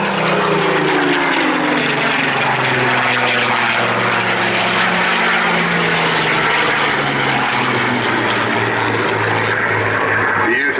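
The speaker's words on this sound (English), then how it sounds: "Yes, Spitfire from the left, Hurricane from the right." A Spitfire and a Hurricane, WWII propeller fighters, flying past at an air display, a loud continuous piston-engine drone with shifting pitch as they cross, dominating the whole stretch.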